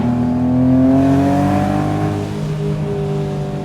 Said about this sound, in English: And it pulls right up to redline, no problem. Like it really wants to rev.